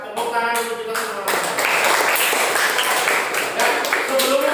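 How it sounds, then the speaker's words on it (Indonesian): A school class claps together, bursts of close, crisp hand claps mixed with children's voices and chatter, growing denser through the middle. "Tepuk tangan untuk kita semua."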